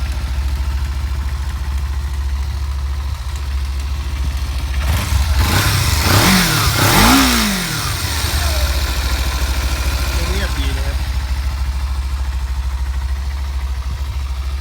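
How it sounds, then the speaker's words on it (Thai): A car engine idles steadily with a low rumble, then revs up for a few seconds before settling back to an even idle. "ฟังเสียงเครื่องนะครับ"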